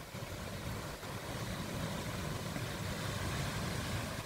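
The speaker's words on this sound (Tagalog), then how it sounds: "Dinig na dinig yung ano, pagaspasan ng mga puno, oh." Strong wind rushes through trees in heavy weather, a loud, dense, continuous roar with rustling texture and no break across the few seconds.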